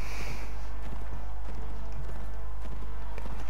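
Horse hooves clopping at a walking pace in Mount and Blade Warband, irregular thuds over a loud steady low hum and game ambience.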